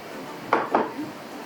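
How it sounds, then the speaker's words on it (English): Two sharp knife chops on a board while onions are cut for homemade tomato sauce, close and crisp, followed by a faint softer knock. "So now that we're chopping the onions,"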